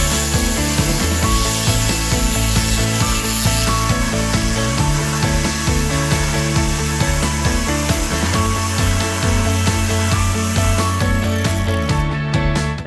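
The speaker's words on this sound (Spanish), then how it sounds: "Entramos en la pieza a 45 grados y haremos movimientos orbitales para refrigerar la broca." A drill bit bores into a workpiece at 45 degrees with orbital movements, producing a loud continuous grinding drone whose pitch shifts as the bit works, with music playing throughout.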